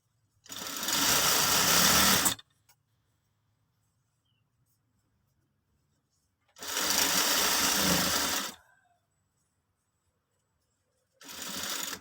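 Sewing machine stitching along the top of a trouser waistband beside the elastic, running loud and steady in two long bursts with a pause between, then starting again near the end; no talk over it.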